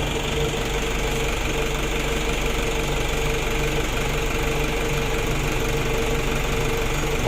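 A 2017 Mitsubishi L300 diesel engine, freshly rebuilt, idles with a steady low knocking clatter that holds an even, loud, continuous rhythm with no talk over it.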